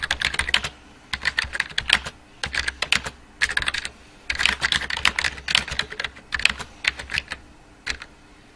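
A full sentence is typed on a computer keyboard in Microsoft Word, with close, crisp key clicks arriving in quick bursts separated by brief pauses, word by word.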